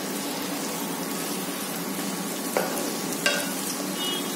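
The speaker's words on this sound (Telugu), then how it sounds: "ఆనియన్స్ ఏ కలర్ వచ్చేంత వరకు ఫ్రై అవ్వాలో చూడండి" Onions fry in a pan for a chicken curry, giving a constant soft sizzle and hiss with two brief utensil clinks near the end.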